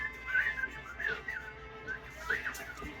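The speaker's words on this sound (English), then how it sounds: "You have to whistle." A person whistles a short tune in several bright, rising and falling phrases, fairly close and alone with a quiet background.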